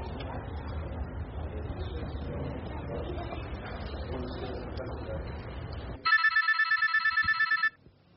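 A telephone ringtone trills in a quick pulsing burst for about a second and a half, loud and close, after a stretch of dramatic background music and voices in a Hindi drama scene.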